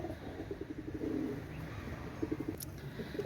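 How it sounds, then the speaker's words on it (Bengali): A pair of golden pigeons with red eyes coo softly in short repeated pulses, faint and somewhat distant against a hissy background. "একজোড়া দেখেন একজোড়া গোল্ডেন কবুতর"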